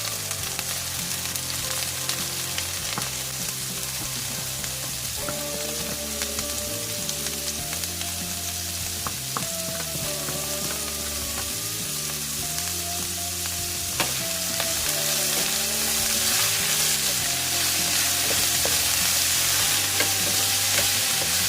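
Pork binagoongan cooks as pork and shrimp paste (alamang bagoong) sizzle in a pan while being stirred, a loud, continuous frying hiss with music playing in the background.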